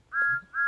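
A video game train whistle in Sodor Simulator sounds a steady high tone twice, a long blast then a shorter one after a brief gap, fairly faint with no talking.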